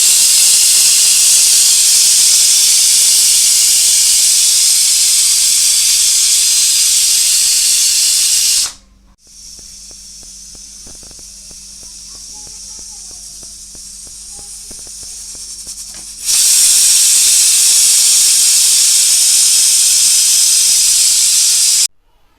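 A pressure cooker on the stove, cooking chickpeas with salt, vents steam in a loud, sustained hiss that drops to a quieter background for several seconds before the strong hiss returns.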